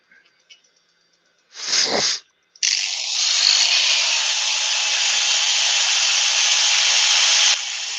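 Electric drill sanding wood with 80-grit paper at reduced speed, held lightly against the workpiece: a brief whine, a pause, then a steady, loud, continuous high-pitched whirring that runs for about five seconds before stopping.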